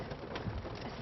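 Moderate, steady rain falls on a road during severe weather, a dense continuous hiss with soft patter that holds at an even level for the whole second, with no voices.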